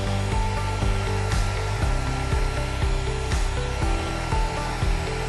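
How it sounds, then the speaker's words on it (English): A Syska hair dryer blows hot air in a steady, loud, close whoosh, the motor's hum holding throughout with small rhythmic flutters as it is moved around while styling hair. "We're going to use a Syska dryer to set the style. First we're going to use hot air."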